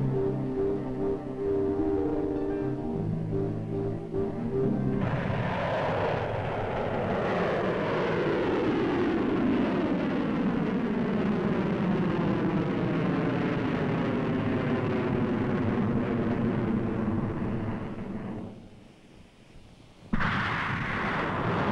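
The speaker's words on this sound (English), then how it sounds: "By dawn of 20 August, they were ready to fire the first missile of the test series" A Pershing missile test launch roars out at dawn, a loud sustained rocket blast that swells, holds steady for many seconds, then fades before an abrupt burst of noise returns.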